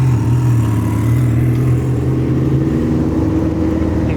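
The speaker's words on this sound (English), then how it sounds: "there's Will in the twin turbo Huracan Performante" A twin-turbo Lamborghini Huracan Performante at a car meet, its engine droning loud and near with a steady low tone that rises slightly in pitch as it revs, no speech over it.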